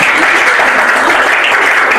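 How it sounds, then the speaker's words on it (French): An audience at a live stage show claps together, a dense, even burst of applause that stays loud and steady for a couple of seconds with no voices over it. "Mais d'abord, applaudissez pour ces charmants publics."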